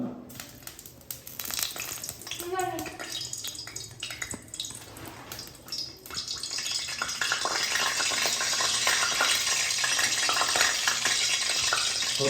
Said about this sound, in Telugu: ఇప్పుడు నూనె వేడెక్కింది దీంట్లో ఈ పన్నీర్ స్లైసెస్ వేసేద్దాం